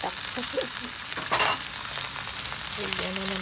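Chicken feet for adobo crackle and sizzle in a hot pan, a dense hiss with brief bursts and scraping as they are stirred, close and loud.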